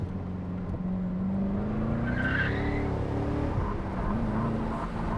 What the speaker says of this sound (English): this is one of the easiest cars I ever drifted in my entire life